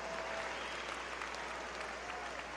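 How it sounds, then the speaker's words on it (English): Audience at a high school graduation ceremony gives sustained applause, a dense, even wash of clapping from a large crowd with no break. "Let's have a nice round of applause for our Lowell High School Show Choir"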